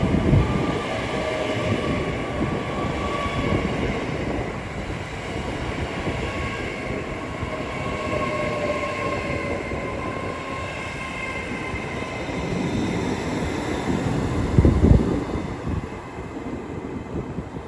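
A train rumbles through Watford Junction on the West Coast Main Line, a loud, sustained roar of wheels and carriages with a faint metallic whine on top and a brief rattling surge near the end.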